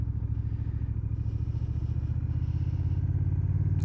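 A 2021 Honda Rebel 1100 motorcycle riding at slow speed: a close, steady engine rumble with a fast, even pulsing throb, idling and lugging along without rising.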